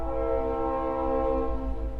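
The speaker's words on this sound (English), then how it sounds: "So, the train is timely, isn't it?" A train sounds nearby with a sustained, steady horn-like tone over a low rumble, loud and continuous for the short stretch, with no talking.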